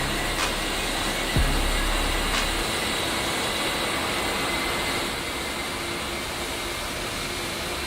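Steady whining, roaring turbine drone of an OH-58D Kiowa helicopter engine spooling up in a flight simulator cockpit, a constant broadband rush with a faint tonal whine and a few clicks, no talking.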